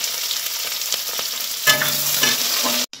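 Onions and whole garam masala spices with a pinch of sugar fry and sizzle steadily in a pan for a home-style Bengali chicken dish, with a louder burst of crackling and stirring midway before the sound cuts off.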